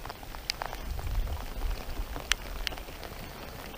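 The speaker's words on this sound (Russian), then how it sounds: "А дождь идет, стеной висит." Heavy rain falling outdoors on a fishing trip, a steady soft hiss of drops with a few sharper taps close by, fairly quiet and without speech.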